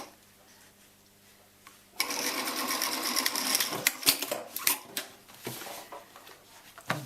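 A sewing machine stitches a pillow cover onto dark blue fabric. After a quiet start it whirs into a loud, close, rapid mechanical rattle that runs steadily to the end with a few knocks.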